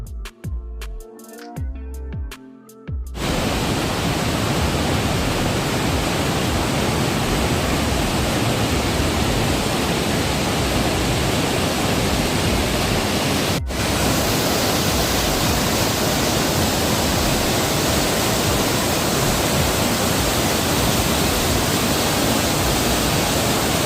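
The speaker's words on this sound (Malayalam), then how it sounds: "നല്ല ഫോഴ്സിലാണ് കേട്ടോ വെള്ളം പോകുന്നത്" Powerful, roaring rush of Bharathapuzha river water pouring through the Chamravattam barrage shutters, a loud continuous broadband torrent after a few brief knocks at the start.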